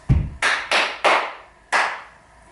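Body percussion of a low stamp followed by a run of crisp hand claps, the first three evenly spaced and the last clearly delayed after a gap, all close and dry with no talking.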